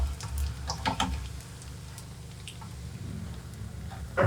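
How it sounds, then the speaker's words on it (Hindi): Sesame balloon dough fries in hot oil with a low steady bubbling sizzle, close and continuous, with a few soft clinks near the start. "हमारी ब्रेड कितनी ज़बरदस्त फ्राई हो रही है"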